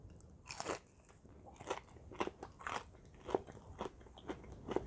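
Crunchy keto fried chicken, breaded and cooked in an air fryer, being bitten and chewed up close, with repeated crisp crackling crunches in an uneven rhythm and no talking.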